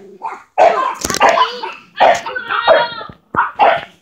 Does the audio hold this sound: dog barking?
yes